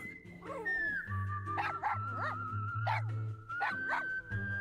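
A dog barking and yipping repeatedly in a radio advert, several sharp barks in a loose rhythm set against a steady tone and low background bed, close and clear.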